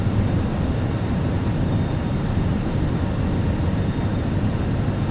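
Fenix A320 flaps extending to position 4 in Microsoft Flight Simulator, heard as a steady, loud broadband cockpit rumble with a faint thin whine running through it, unbroken throughout.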